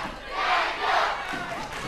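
A crowd at a karate match cheers and roars, a broad swelling wash of many voices rising and falling over a couple of seconds.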